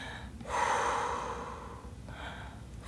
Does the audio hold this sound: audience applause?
no